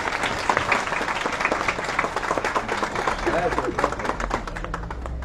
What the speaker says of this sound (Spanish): acompañan la entrega de esta placa con un fuerte aplauso.